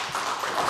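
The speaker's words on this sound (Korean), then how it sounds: "박수." A church congregation claps together in a dense, steady burst of applause with no voices over it.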